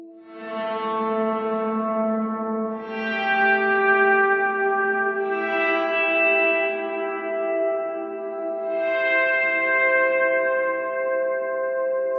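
Sustained electric guitar chords ring out with heavy bloom reverb from a Line 6 Helix/HX Stomp, each swelling and washing into a long shimmering tail, no voices.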